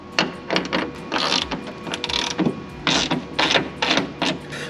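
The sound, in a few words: ratchet loosening bolts on BMW M2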